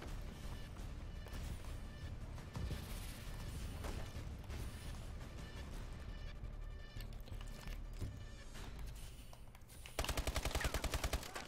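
Continuous gunfire in a shooter video game, sustained and dense, heard quietly, with a sharper rapid automatic burst near the end.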